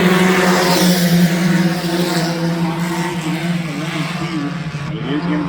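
Race cars speeding around Adams County Speedway, a steady, loud engine roar with rising and falling pitch as they power down the back straightaway, under a race announcer's commentary.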